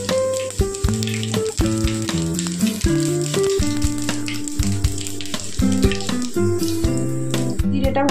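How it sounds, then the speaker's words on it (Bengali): Whole cumin seeds sizzle steadily in hot mustard-oil-style fish-frying oil for doi katla, a loud continuous crackle with light stirring rattles and no talk. "গোটা জিরে ফোড়ন,"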